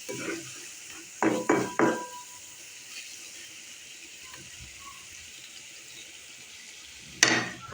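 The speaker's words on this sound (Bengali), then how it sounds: "কিছুক্ষণ তেলের উপরে ভাজি করব।" Spiced dried fish curry frying in oil, with a quick cluster of metal spoon clinks against the pan, a soft steady sizzle, and one more sharp scrape near the end.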